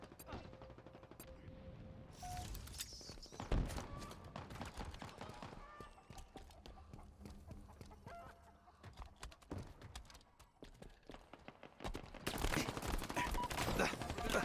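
Video game gunfire, with bursts of rapid automatic shots and loud bangs that come and go over a busy stretch of mixed effects, ending in a dense burst of fire.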